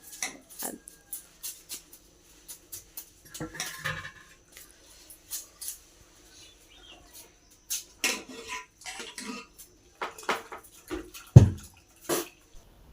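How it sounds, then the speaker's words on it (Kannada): Hot pasta tipped into a pan of white sauce in a home kitchen: scattered clinks and scrapes of utensil on cookware with soft wet slaps, irregular and fairly close, no talking. "ಬಿಸಿ ಬಿಸಿ ಪಾಸ್ತಾ ಹಾಕ್ತಾಯಿದ್ದೀನಿ."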